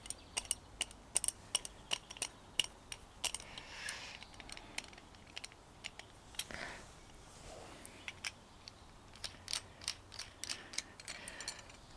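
Metal parts of an Enduro Star trail jack for a Suzuki DR650 being handled and threaded together, a steady run of sharp close clicks and ratcheting ticks with faint rustling between them and no talk.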